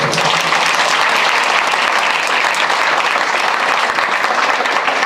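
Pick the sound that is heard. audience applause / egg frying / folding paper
audience applause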